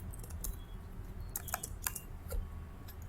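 Quiet, irregular clicking of keys typing into a document on a computer keyboard, soft and close with a low background hum.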